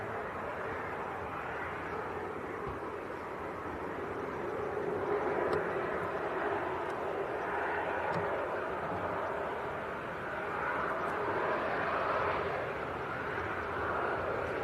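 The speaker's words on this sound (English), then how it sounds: "There we go, KLM from Amsterdam." A KLM airliner arriving from Amsterdam at Leeds Bradford Airport rumbles with a steady, broad jet roar that swells gently and stays moderately loud throughout, with no talk.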